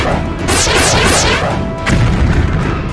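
A thrown grenade explodes with a loud, close boom and crashing debris. The blast rumbles and rolls on through the whole moment, with a second burst of crash partway through.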